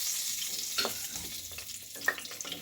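Whole bay leaves, mace, green and black cardamom, cinnamon and cloves fry in hot oil for a pilaf tempering, giving a steady close sizzle with a few sharp pops and light stirring clinks.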